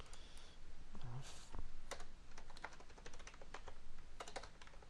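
Typing on a computer keyboard while editing a record in a web form, heard as quiet, uneven bursts of key clicks spread across several seconds with short pauses between them.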